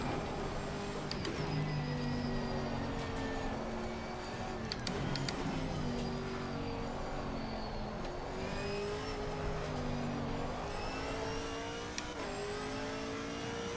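Race cars, a McLaren among them, run on the Nordschleife in the ACC racing game with a player's Chevy Camaro GT4, a steady close engine drone whose pitch climbs and drops through gear shifts, with faint ticking over it.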